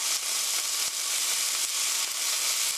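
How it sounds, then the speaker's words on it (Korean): Shredded cabbage, bell pepper and onion stir-frying in a pan for an omelette, a steady close sizzle with occasional soft scrapes of stirring, no voices. "5분간 볶아주세요."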